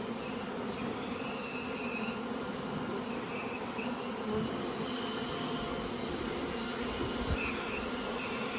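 Honey bees swarming around a yard of small nucleus hives in a robbing frenzy make a dense, continuous buzzing hum that stays steady and close throughout.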